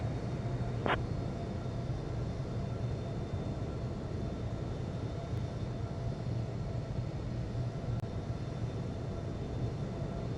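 A Boeing 737 in the Infinite Flight video game departs Guangzhou international airport, its engines giving a steady, even jet roar that holds throughout, with a brief faint tone near the start.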